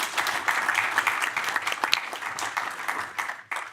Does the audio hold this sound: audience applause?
yes